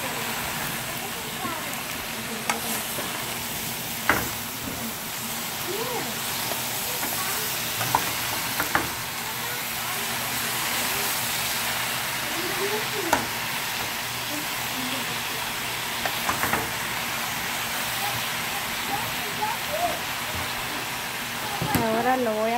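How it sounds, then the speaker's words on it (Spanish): Tomatoes, bell pepper and onion for Mexican-style steak cook in a pan, giving a steady soft sizzle with occasional stirring scrapes and utensil knocks, moderately close, without talk. "Lo voy a revolver un poco."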